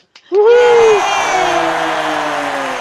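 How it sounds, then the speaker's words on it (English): A loud, sharp whoop opens a burst of cheering from a small group at a giant snail race, honouring Tindy; excited voices carry on, slowly fading over a few seconds. "A big round of applause for Tindy"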